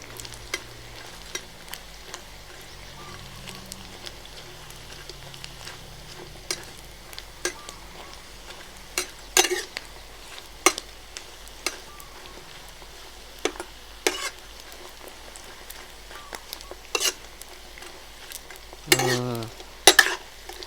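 Small climbing perch deep-frying until crispy, a steady low sizzle of hot oil running throughout with scattered sharp clicks and stirring taps, plus a louder scrape near the end; no talk.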